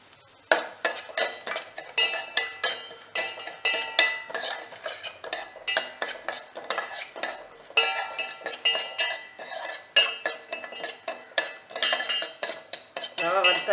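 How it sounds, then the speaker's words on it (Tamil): Semolina (rava) dry-roasting in a pan for payasam, with continuous rhythmic scraping and stirring of a spoon against metal, fairly close and loud throughout, with no voices. "நம்ம ரவையை வறுத்துடலாம்."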